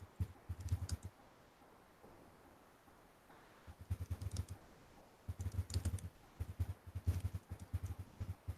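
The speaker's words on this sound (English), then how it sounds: "Someone's typing vigorously." Vigorous typing on a computer keyboard in bursts of rapid clicks separated by short pauses, close and fairly loud with no talking.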